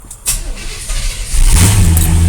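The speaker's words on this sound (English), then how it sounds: "Then it starts right up." A truck engine cranks and catches with help from a Jump n Carry JNC1224 12/24V jump starter, a short starter burst followed by the engine rising to a loud, steady idle close by.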